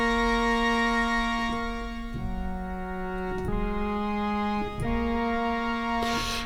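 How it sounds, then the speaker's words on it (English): Brass section patch on a Trident MkIII synthesizer with an organ-like tone, sustained chords changing every second or so, played alone without any voice. "This is what the brass section sounds like."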